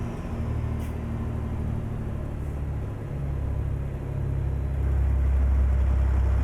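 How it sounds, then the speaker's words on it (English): In American Truck Simulator, a truck crawls along slowly with a low, steady engine rumble. It swells a little louder toward the end, with no talking. "And we got a truck going real slow."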